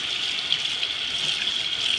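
Cool tap water runs steadily over dyed Magpul PRS gun furniture being rinsed at a sink, a constant close hissing gush with no talking.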